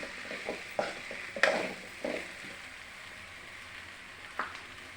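Vegetables with chili powder are stirred in a hot pan, giving soft sizzling and several scraping clinks of a spoon against the pan, fairly quiet and intermittent.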